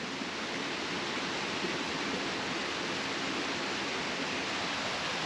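Water rushes steadily down a creek beside a historic grist mill, a constant broadband wash with no talk over it.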